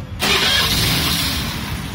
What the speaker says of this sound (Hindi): और गाड़ी चालू करते